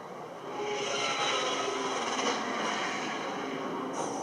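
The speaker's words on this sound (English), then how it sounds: "The Aurora flyby sound" A sustained whooshing roar of the Aurora spaceship flying by in Star Citizen swells in after a quiet start and holds steady, with a faint high whine near the end.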